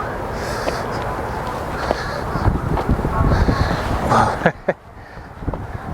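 Wind buffets a microphone outdoors in Dover in rough gusts, with rustling and occasional thumps, loud and close throughout.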